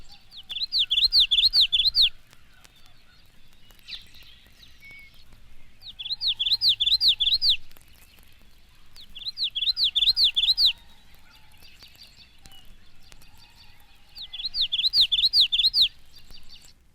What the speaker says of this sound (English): one variation of the typical witchety-witchety song of a Maryland yellowthroat